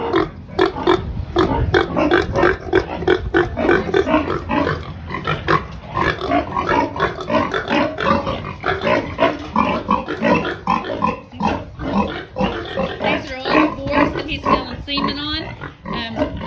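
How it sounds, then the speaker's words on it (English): Breeding boars on a pig farm grunt and snort loudly and almost continuously, close by, as a person talks among them. "These are some of our breeding boars."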